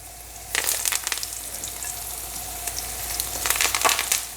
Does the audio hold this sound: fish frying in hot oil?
yes